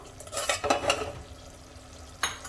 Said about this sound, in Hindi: तो बस इसी तरह से चलाते जाना है इसको, और भूनते जाना है सब्जी को।